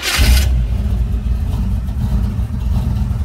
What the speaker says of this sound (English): I do like that motor running